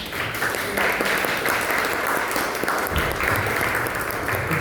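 An audience at a university conference claps loudly and steadily for several seconds, a dense, sustained round of applause at the end of a talk.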